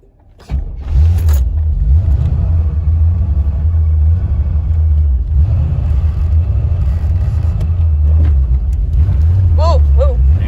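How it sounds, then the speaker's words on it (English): A C4 Corvette engine rumbles steadily while accelerating, running rough with sputters and an occasional backfire, loud and continuous from inside the car, with people talking over it. "still sputtering when I accelerate, but at least we're going now"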